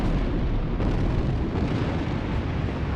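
Heavy artillery strikes pound in a war video game, a dense, loud roar of explosions rumbling without break for the whole stretch.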